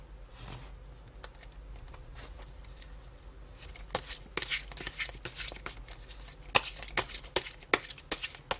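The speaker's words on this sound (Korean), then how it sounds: "추가 카드를 한번 뽑아보겠습니다" Tarot cards are shuffled close by, beginning as faint soft riffling that builds into loud, rapid, crisp bursts of card flicks and slaps.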